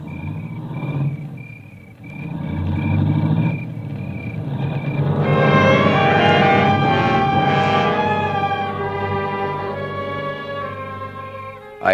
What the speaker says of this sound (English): I heard the car leave